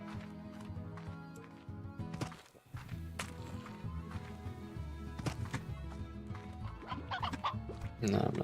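Chickens in Slime Rancher cluck in scattered bursts near and far, mixed with running footsteps over a steady game soundscape.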